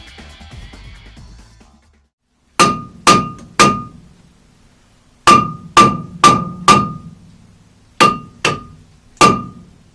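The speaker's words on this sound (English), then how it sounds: "Or we can break our tools giving it a few good whacks." A hammer strikes the front brake rotor of a BMW E30 in sharp, ringing metallic whacks, three in a quick group, then four, then a final spaced pair, loud and close.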